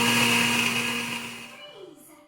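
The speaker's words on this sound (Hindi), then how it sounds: "और इसको जो है वो मैं ग्राइंड कर लूँगी, तो ये एक साथ जो है वो अच्छे से ग्राइंड हो जाएंगे।" A kitchen grinder runs loud and steady on oats and almonds, its high whine holding for about a second and a half before cutting off and winding down to quiet.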